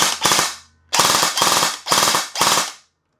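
A Specna Arms SA-F249 FN airsoft machine gun AEG runs on a table top in five close, loud bursts of rapid mechanical cycling separated by short pauses, heard alone.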